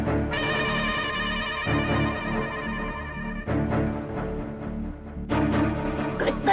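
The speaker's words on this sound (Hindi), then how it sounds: "घंटी बज रही है।" A phone ringtone plays a repeating electronic melody in bursts, fairly clear and close, with brief pauses between the ringing phrases.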